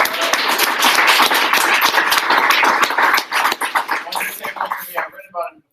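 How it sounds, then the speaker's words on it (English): An audience applauds Tracy with sustained, dense clapping for about five seconds, then the claps thin out into scattered individual hits before stopping. "Give Tracy a round of applause"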